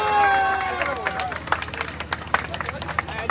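An audience at a goat show prize-giving in Sialkot applauds in scattered, light claps while someone speaks over a loudspeaker and the crowd murmurs.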